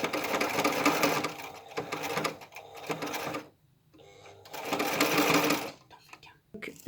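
A sewing machine stitches a fabric face mask in two long, loud, steady runs of whirring, with a short quiet pause between them and a brief tail at the end.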